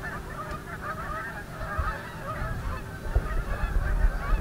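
Geese nesting on a golf course honk in a dense, continuous chorus from a moderate distance, with some low rumbling bumps toward the end.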